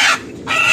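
A chicken squawks as it is grabbed from a tree at night, two loud, close, harsh bursts separated by a short gap.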